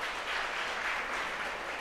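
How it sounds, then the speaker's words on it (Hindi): An audience at a music workshop claps for the teacher in a short burst of soft, steady applause heard from close by, with no talking over it. "इनके लिए एक बार ताली बजाएंगे"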